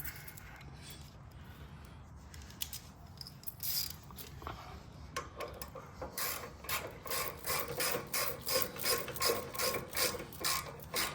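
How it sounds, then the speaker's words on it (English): A ratchet tightens brake bolts on a Harley-Davidson, quiet handling at first, then a run of rapid, even clicking strokes that grows louder and closer toward the end. "Bolts going in. And then we do the same to the other side."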